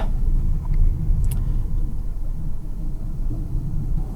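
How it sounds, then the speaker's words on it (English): A car engine rumbles at low idle-to-moderate revs while reversing during a J-turn, close by, with a steady droning hum and no talking. "throw her into reverse"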